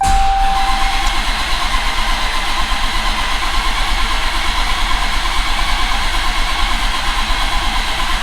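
A modified Dodge Challenger Hellcat engine cranks over steadily without firing, giving a loud, continuous, even churning that runs unchanged throughout with no catch or start.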